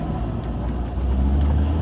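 A car drives along brined winter roads in Cincinnati, giving a steady low engine and tire rumble heard from inside the cabin, with no voices.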